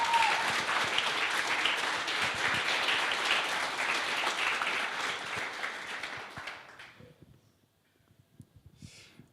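Conference audience applauding at an event in Berlin, a dense, loud wash of clapping from a large crowd that fades out over the last few seconds into near quiet.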